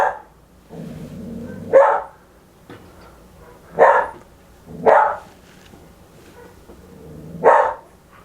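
A dog named Bodie barks in four loud, separate barks spaced irregularly, close up, with quiet gaps and faint low muttering between them.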